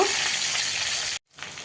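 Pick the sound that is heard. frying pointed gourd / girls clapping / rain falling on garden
frying pointed gourd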